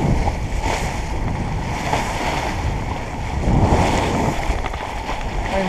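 Sea waves in open water off La Palma, heard from a boat as a continuous close wash and slosh, with wind buffeting the microphone and a slight swell in loudness midway.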